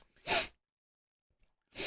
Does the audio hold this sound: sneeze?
yes